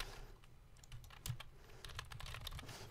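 Fingers type a domain name on a computer keyboard nearby, a quick irregular run of crisp key clicks spread across the full three seconds with no talking.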